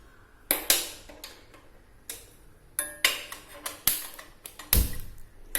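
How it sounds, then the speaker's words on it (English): A gas stove with a pot on it is lit, giving a series of sharp, irregular igniter clicks close up, ending in a brief louder burst as the flame catches, in a quiet kitchen. "So I have put the pot on the gas and I'm going to light it up"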